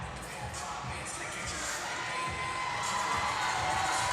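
Arena crowd at the Rogue Invitational weightlifting competition cheering and shouting encouragement at an athlete, a dense roar that swells slightly louder toward the end.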